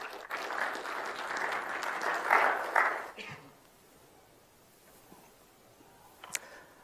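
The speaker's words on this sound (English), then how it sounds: "Please welcome McAfee Software Engineering Manager, Mr. Colin with a big applause" Audience applause welcoming a software engineering manager at a developer conference session fills the first few seconds, then fades to quiet room tone with a couple of faint clicks.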